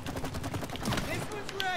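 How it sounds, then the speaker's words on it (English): Rapid gunfire in the co-op video game It Takes Two, shooting sap that explodes: a quick run of sharp shots over a busy game mix, with people talking over it. "When you shoot the sap, it explodes."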